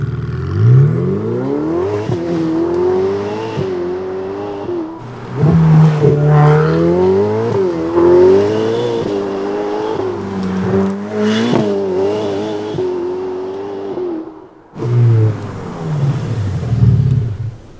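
A supercar pulls away from a standstill, its engine rising through repeated rev climbs with gear changes, loud and close from inside the cabin, easing off before revving hard again near the end.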